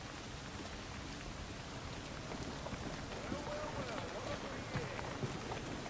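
Rain falls in a video game, a dense, even wash of patter and hiss that holds steady from start to finish at a moderate, close level.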